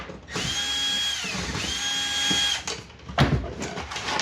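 A power screwdriver whines in short bursts, spinning screws out of the tray of a Falcon ready-to-run upgrade kit. Close and steady, its pitch sags and recovers between screws, with faint clatter near the end.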